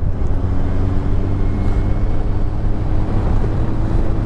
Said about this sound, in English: Drop this down a gear, really, and let the bike get up in the rev range.